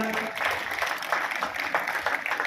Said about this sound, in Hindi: एक बार ऐसे बच्चों के लिए जोरदार तालियां